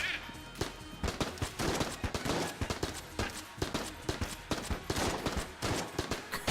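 Rapid video-game gunfire in Enter the Gungeon, bursts of sharp shots fired in quick runs with the trigger held down, loud and nearly continuous, with short gaps between volleys.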